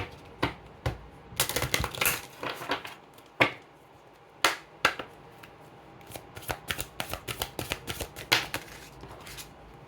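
Tarot cards shuffled and drawn by hand, giving quick papery riffles and soft slaps in irregular bursts, close and fairly quiet, with no talking.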